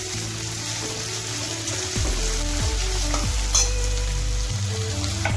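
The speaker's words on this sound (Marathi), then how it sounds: "मीडियम फ्लेमवर आपल्याला कांदा चांगला परतून घ्यायचा सोनेरी रंगाचा होईपर्यंत" Chopped onion fries in a pan over a medium flame until golden, a steady, close hiss and sizzle with faint stirring and a few low hums, no voices.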